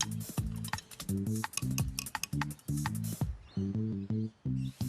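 Salt being stirred into a bottle of water, a close rhythmic series of scraping, rattling strokes in quick bursts with brief pauses between them.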